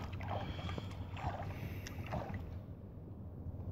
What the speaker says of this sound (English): I'm going to paddle, you guys. I'm trying to paddle.